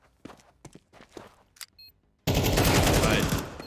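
AK rifle fire in Counter-Strike on the Anubis map, with scattered footsteps and light clicks first, then a sudden, sustained loud burst of automatic fire.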